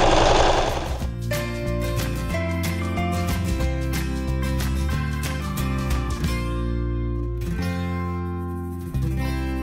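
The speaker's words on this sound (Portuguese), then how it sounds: "Eu vou passar um zigue-zague." A sewing machine running a zigzag stitch on denim jeans hums with a loud, close motor and rapid repetitive needle clatter that shifts speed and ends with a brief slowdown.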